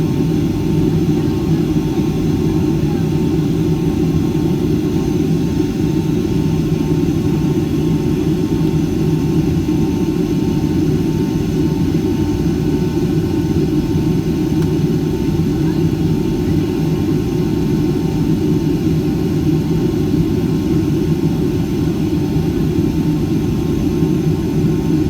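Cabin noise inside an Icelandair Boeing 757-256 with winglets, heard from window seat 19F over the wing on a flight from Minneapolis to Keflavik: a loud, unbroken low roar and rumble with a soft airy hiss above it.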